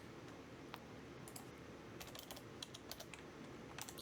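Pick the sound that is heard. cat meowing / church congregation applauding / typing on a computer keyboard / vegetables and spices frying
typing on a computer keyboard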